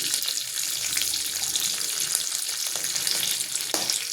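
Asafoetida frying in hot oil for dal, a continuous bright crackling sizzle heard close and alone, with scattered small pops and occasional clinks of a utensil.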